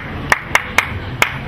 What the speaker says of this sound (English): You're gonna clap.